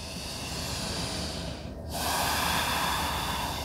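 Deep, slow breaths during a sun salutation yoga sequence: a long, airy hiss of breathing with a brief pause near the middle before the next strong breath, close and steady with no talk.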